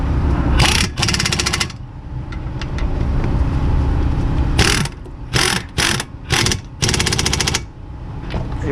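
Impact wrench tightening brake bolts on a 2006-2011 Chevrolet Impala during a front brake pad job: a long loud rattling burst, a pause, then four or five short hammering bursts over a steady background hum.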